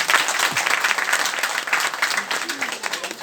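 Audience applause at a seminar-style talk, a dense continuous wash of clapping filling the room for a few seconds, with a voice speaking briefly underneath.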